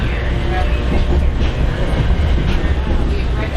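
A Port Jervis line commuter train runs steadily on the rails, giving a continuous loud rumble with a faint rhythmic clatter and no pauses.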